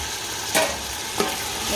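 Egg biryani masala with mint leaves being stirred in a pan: a steady frying hiss with two brief scraping strokes of the spoon, close and alone.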